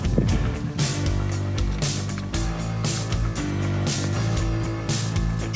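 Running engine of a 1969 Volvo 164 gives off a steady, loud vacuum hiss and suction over a low mechanical drone, close up and continuous with no talking.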